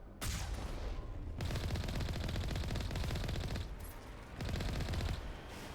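Rapid automatic gunfire in the video game Mass Effect rattles in long dense bursts, broken by a brief pause partway through, loud and close with no voices over it.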